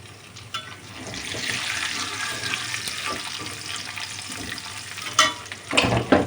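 Chunks of beef and garlic fry in a pan as they are stirred, giving a crackling sizzle mixed with scraping and clattering utensil strokes that grow louder and more frequent toward the end.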